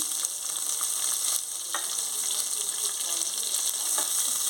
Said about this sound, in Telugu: ఆనియన్స్ వేసుకుంటున్నాను